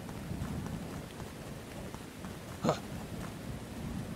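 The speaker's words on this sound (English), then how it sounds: "I hate the rain." Steady rain hisses in the Baby Sniper in Vietnam video game, and a single sharp thunder crack breaks through midway before the downpour carries on alone.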